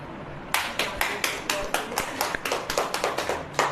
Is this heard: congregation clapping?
yes